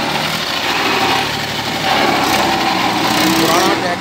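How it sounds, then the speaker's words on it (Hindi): An old 1998 Mahindra 265 DI tractor with a gearbox noise pulls hard under load, its loud, rough, continuous engine roar close by with people talking over it. "पुराना ट्रैक्टर है लेकिन फिर भी देखिए ताकत इसकी।"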